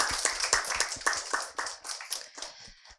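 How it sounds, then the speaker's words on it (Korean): Audience applause after a presentation at a pet startup open innovation demo day: a brisk burst of clapping from a small crowd, irregular and fairly close, tapering off toward the end. "대표님께 다시 한번, 네, 박수 네, 부탁드리겠습니다"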